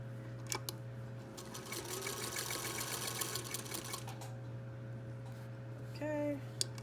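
Sewing machine stitching a fabric face mask, a fast steady run of needle strokes for a few seconds, then quieter handling with a brief squeak near the end; close and clear with no talking.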